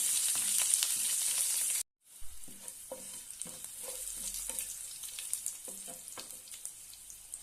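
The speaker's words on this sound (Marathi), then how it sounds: "चार पाच हिरव्या मिरच्या उभ्या कट करून घेतलेल्या आहेत ते घालूया आणि छानपैकी परतून घेऊया" Green chillies slit lengthwise sautéing in hot oil with curry leaves for a yellow potato bhaji: a steady bright sizzle, a short break, then continued frying with occasional stirring scrapes, close and moderately loud.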